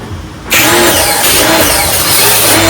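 A pressure washer engine starts abruptly after a quiet moment, jumping straight into a loud, steady, close-up running roar that holds for the rest of the clip.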